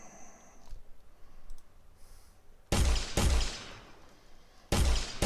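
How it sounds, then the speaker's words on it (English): Gunfire from AI assault soldiers in an Unreal Engine 4 game: after a low hiss and faint clicks, a few loud sharp shots crack out, two close together and then another, each with a ringing decay. "the gunshot sounds need to have attenuations"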